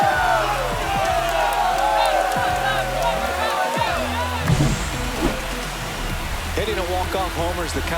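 A home crowd roars and cheers after a walk-off home run in MLB The Show 25 for the Miami Marlins, a sustained loud crowd noise under continuous play-by-play commentary.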